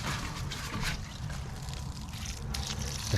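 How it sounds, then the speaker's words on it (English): Water is poured steadily onto loose soil around a newly planted garden plant, a continuous soft splashing trickle heard close up for several seconds. "The heavier pouring of the water does a better job when you've got a lot of loose soil."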